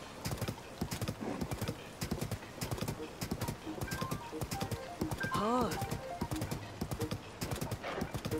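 A horse gallops with fast, steady clip-clop hoofbeats in The Legend of Zelda: Tears of the Kingdom, breaking into one clear whinny midway while someone talks over the gameplay.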